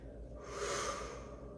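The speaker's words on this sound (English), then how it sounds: "Exhale." One long, steady exhale during a Pilates exercise, heard up close as a soft airy rush that swells and fades over about a second.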